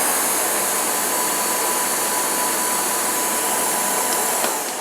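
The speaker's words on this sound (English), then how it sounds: "to my ears it's not a loud vacuum cleaner" A steady, even whir of a Miele S8 canister vacuum running continuously at moderate volume, with a broad airy hiss and no pauses or talking.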